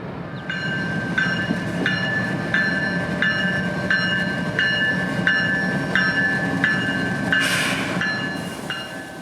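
CSX local freight train L881 rolling past a ballpark on a rail line near Montgomery, a loud continuous rumble with regular wheel clacks over rail joints, heard close at hand throughout.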